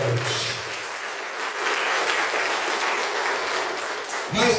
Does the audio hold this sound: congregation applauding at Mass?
yes